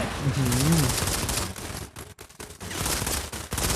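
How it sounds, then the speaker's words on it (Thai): Automatic gunfire rattles in dense, loud bursts during a Modern Combat 5 shooting match, nearly continuous with short gaps, while a player's voice talks over the start. "แล้วกูยิงอะไรอยู่นี่ ยิงมัน"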